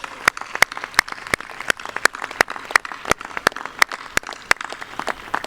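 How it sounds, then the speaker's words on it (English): Sparse, distinct handclaps at a 2022 commencement ceremony for the College of Medicine and College of Science and Health, applauding the faculty, a few nearby hands clapping in a fairly regular rhythm. "Let's give them a round of applause."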